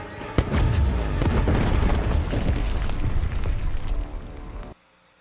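A loud explosion from an episode of Star Wars: The Bad Batch, "The Crossing", erupts suddenly into a heavy, rolling boom and sustained rumble lasting several seconds before cutting off abruptly.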